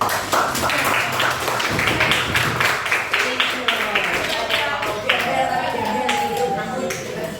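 A group of students clap their hands together during a physical education lesson, a steady stretch of close, sharp claps with voices mixed in throughout.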